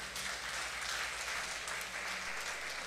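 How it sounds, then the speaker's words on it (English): A standing church congregation claps together, a loud continuous roar of hands that stays even and full from start to finish, with no voices rising above it. "I heard somebody clapping."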